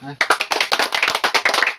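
Children clap their hands in a quick, uneven burst of close, sharp claps following one another rapidly, with voices mixed in.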